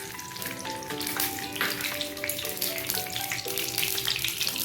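Oil heating in a kadai for frying fish makes a continuous sizzling hiss. Steady tonal music plays throughout, and there is no speech.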